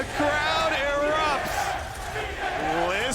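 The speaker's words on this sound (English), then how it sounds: "Listen to New York cheer." Esports arena audience in New York at a League of Legends Worlds group match, a loud continuous crowd roar with shouted cheers, while a caster talks excitedly over the din.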